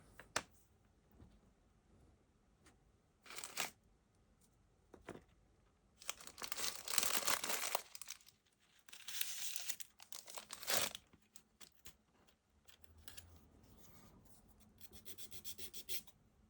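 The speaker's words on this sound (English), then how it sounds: "So smooth the edges, sandpaper." Sandpaper smoothing the edges of a small part from a DeAgostini Moomin House model kit. Intermittent rasping, scratchy strokes come in short bursts and longer passes, close and fairly quiet, with pauses between.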